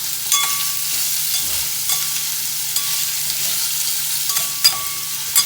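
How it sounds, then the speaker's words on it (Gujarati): Raw mango pieces sizzle in hot tempering in a pan, a steady close frying hiss with faint clinks as they are stirred, no voices. "કેરીના કટકા કરેલા વઘારમાં નાખી દઈશું અને એને સારી રીતે હલાવીશું"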